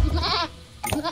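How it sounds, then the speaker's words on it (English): Goats bleat in a video game: a short, wavering, nasal bleat and then a second harsher call, loud and close, with no talking over them. "CBA get these goats or what?"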